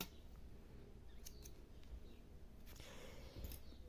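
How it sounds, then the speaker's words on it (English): Scissors snipping crochet yarn, two or three quiet close cuts with light clicks, faint and alone over low background hiss. "I'm going to cut the yarn"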